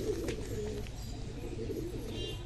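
Pigeons in a loft give low, soft cooing calls that repeat close by under a steady background hum, with no clear speech.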